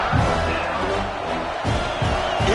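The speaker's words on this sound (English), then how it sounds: "this crowd is fired up. Listen to this noise here." Dense college football stadium crowd roars steadily with cheering throughout, a loud, continuous wash of voices with some swells, no clear individual speech.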